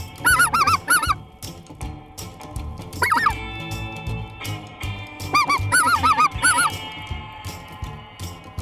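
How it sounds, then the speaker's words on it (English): Snow geese honk in bursts of high, nasal calls, several overlapping, loud and close, with gaps of rustling and quieter background noise between volleys. "Snow geese."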